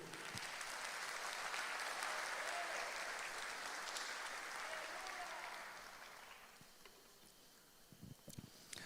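A church congregation claps steadily for several seconds, a dense wash of applause that gradually thins and fades, with a few scattered claps at the end.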